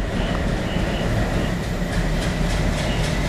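A Bangladeshi train rolls along the Rajshahi to Tangail route in the Train Simulator Bangladesh game, with a steady, loud rumbling drone and faint rhythmic clacking throughout.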